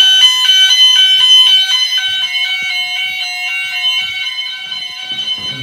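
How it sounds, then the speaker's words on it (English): A Gent Vigilon fire alarm system sounds loudly during a test: a piercing, repeating electronic warble of pulsed tones runs continuously through the clip and fades slightly near the end. "And silence the alarm, got the test spray."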